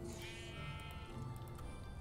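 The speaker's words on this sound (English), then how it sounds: "What? Sheep!" Sheep in the Minecraft video game bleat in a drawn-out, wavering cry that sounds close and clear over a steady low background hum.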